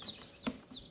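A mother hen in a coop, after brooding her eggs for 22 days, gives a soft, close cluck in a short burst with faint chick peeps around it.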